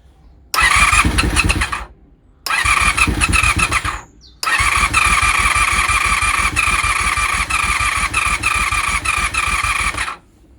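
A Honda VFR 400 NC30 barn-find motorcycle being jump started, its starter whirring in three long cranking bursts separated by brief pauses, loud and close, with the engine not catching.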